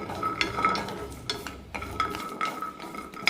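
Jackfruit seeds roasting over a low flame in a pan, stirred now and then, with repeated scraping and clinks of utensil against the pan and a faint sizzle underneath, close and steady with no talk.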